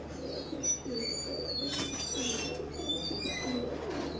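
Imported teddy pigeons coo in a loft, with several soft, rolling coos repeating steadily at close range, joined by faint higher chirps in the background.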